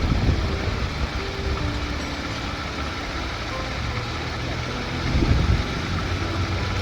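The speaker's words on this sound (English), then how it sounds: "The compressor has kicked on." A car's air conditioning compressor runs with the engine going, a steady mechanical drone and hum with a faint whine, close and continuous, swelling briefly toward the end.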